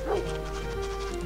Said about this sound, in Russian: А, вот собака появилась еще.